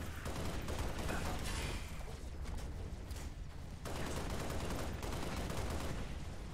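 Heavy gunfire in Halo Reach, a dense continuous barrage of shots filling the whole stretch, with a brief lull midway before the shooting surges again.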